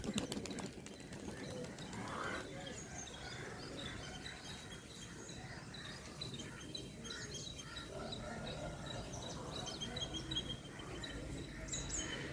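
A released pigeon takes off outdoors, its wings flapping softly and faintly amid scattered distant chirps and light background noise.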